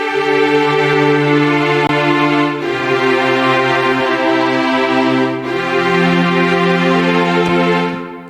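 A synthesized string ensemble, arranged in REAPER with Kontakt, sustains full, layered chords in four parts, changing harmony slowly every few seconds, loud and with no talking.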